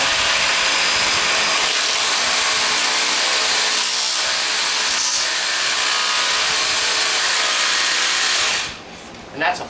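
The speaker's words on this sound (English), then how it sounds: "And then with the jigsaw," A Festool Carvex jigsaw with a fine blade cutting wood against a zero clearance plate, a loud steady buzzing whine that runs for about nine seconds before it cuts off at the end.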